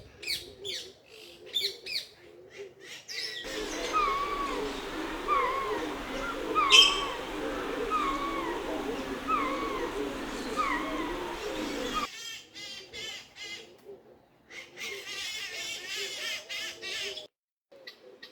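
A Goffin's cockatoo calls in a bird sanctuary aviary, giving repeated chirps and calls over a busy bed of other birdsong in the middle of the clip, while a person talks before and after.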